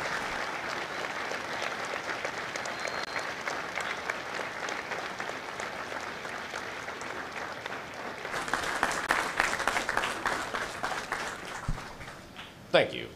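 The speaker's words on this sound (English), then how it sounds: "Ladies and gentlemen, a round of applause for their dedicated service to Corps and country." Sustained audience applause fills a Marine Corps recruit graduation ceremony at MCRD San Diego, a dense steady clapping that swells louder near the end before a sharp final burst.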